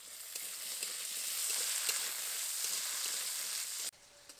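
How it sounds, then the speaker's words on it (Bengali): Chopped potatoes sizzle in mustard oil with lightly fried onion in a village kitchen, a steady, close crackling fry that cuts off abruptly near the end, with no talking. "এবার এর মধ্যে দিয়ে দেবো আলু কুচি"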